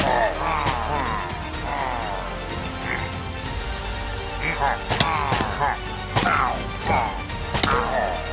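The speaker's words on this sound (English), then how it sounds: "Oh, they're shooting at me." Enemies firing at the player in Minecraft, heard as scattered sharp thwacks and impact hits over a busy game soundscape, repeating irregularly through the stretch.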